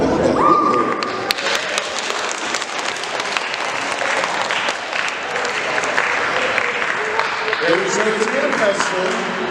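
A room full of people at a marching band meeting bursts into applause, dense and loud clapping that continues steadily for several seconds, with a few voices mixed in toward the end.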